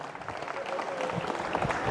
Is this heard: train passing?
no